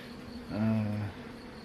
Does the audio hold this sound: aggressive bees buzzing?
yes